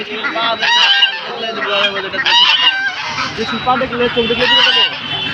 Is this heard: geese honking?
yes